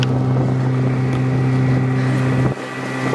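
A dinghy outboard motor running steadily at speed with strong wind noise across the microphone, a loud, continuous droning hum with a slight dip near the end.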